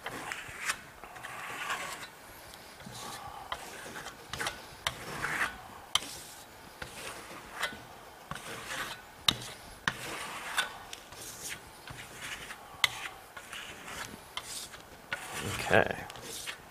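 A small trowel spreads Merlot Lime Venetian plaster across a sample board in quiet, irregular scraping and rubbing strokes, close up with short sharper scrapes scattered throughout.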